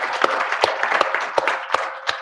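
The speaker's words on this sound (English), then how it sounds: "Round of applause for that." A small audience at a live science-communication competition final claps for a few seconds, individual hand claps standing out loudly in an uneven, sparse rhythm.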